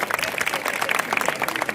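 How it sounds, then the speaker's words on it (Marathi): An audience at a political rally for local candidates in Sangamner breaks into dense, continuous clapping that stays fairly loud and steady from start to finish. "आपण सगळ्यांसाठी एक जोरदार टाळ्या होऊन जाऊ द्या"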